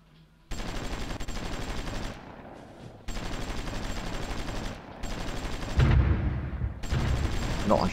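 Gunfire in the strategy game Supreme Ruler Ultimate, steady dense volleys of automatic fire in several long stretches separated by short gaps, with heavier booms near the end and no talk.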